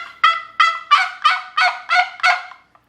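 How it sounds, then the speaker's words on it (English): A Lynch's World Championship wooden turkey box call is worked in seven loud, evenly spaced raspy yelps and clucks, close and alone with no talking. "right off the bat, I have a Lynch's World Championship box call."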